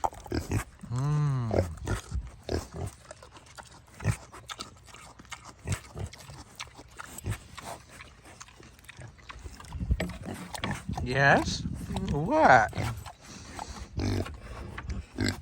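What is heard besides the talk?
pigs grunting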